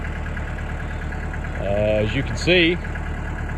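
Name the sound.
tractor engine idling while seeding winter rye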